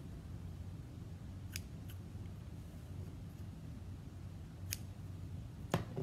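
Scissors cut rubber bands in half, giving a few sharp, isolated snips over a steady background hiss with no talking.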